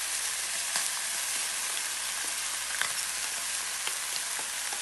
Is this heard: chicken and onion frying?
yes